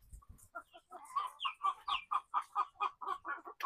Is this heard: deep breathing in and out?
no